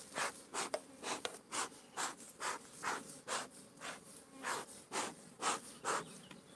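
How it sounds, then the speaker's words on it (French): Honey bees being moved from a small nucleus box into a full hive give a steady insect buzzing. It swells and fades in regular pulses about every half second, close and fairly loud, with no voices. "je suis en train de transférer des abeilles d'une ruchette vers la ruche pour qu'elles commencent à faire le miel"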